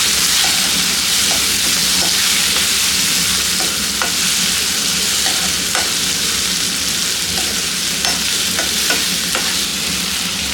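Tomato curry with chilli powder, sambar powder and garam masala stirred in a hot pan, loud continuous sizzling with repeated sharp scrapes and taps of a spoon against the pan.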